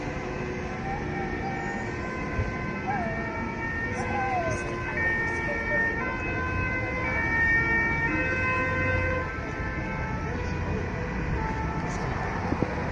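Ambulance siren in the streets of Nice, France, on Bastille Day after a truck attack, wailing steadily at moderate distance through the whole stretch amid crowd noise and traffic.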